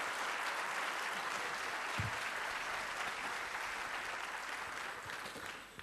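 Steady applause from a political rally audience in Treviso welcomes Luca Zaia, a dense wash of clapping heard at some distance, continuing evenly for several seconds and easing off at the end.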